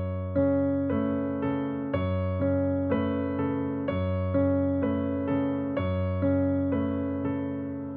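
A piano plays the opening chord pattern of a piece with both hands, a bass note under a right-hand note repeated in a steady pulse, rich and sustained, with no talking.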